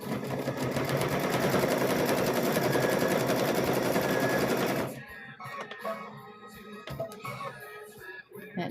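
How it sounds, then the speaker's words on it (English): A sewing machine stitches around the edges of a mug rug in a fast, loud, steady run for about five seconds, then stops. Quieter handling clicks and rustles follow. "So we're going to sew around all the way around the edges"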